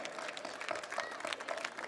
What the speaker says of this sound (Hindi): सभी लोगों से अनुरोध है कि तालियों की गड़गड़ाहट के साथ आपका हार्दिक अभिनंदन करने की कृपा करें।